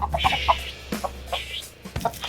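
Hens in a small, tight backyard coop cluck in short, repeated bursts, close and fairly loud, with a low background rumble and a few sharp knocks.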